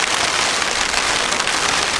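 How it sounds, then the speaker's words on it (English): Heavy rain pours steadily onto a camping tent, a dense, even hiss of drops drumming on the fabric with no pauses and no voices. "you can probably hear it's still raining"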